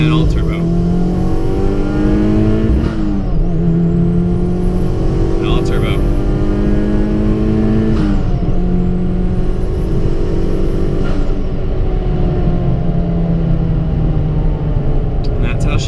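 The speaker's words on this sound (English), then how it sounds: "Second gear, and hit 5 PSI, climbing, crossover, and all turbo." A twincharged car engine accelerates hard in second gear through the turbo crossover, its loud rising drone sweeping up in pitch across several pulls with a thin high whine on top, while a voice talks over it.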